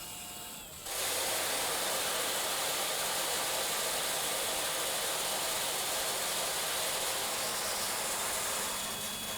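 A corn cleaning blower starts up after a short pause and runs as a steady, loud broadband whoosh of rushing air, separating good corn from chaff without letup until the end.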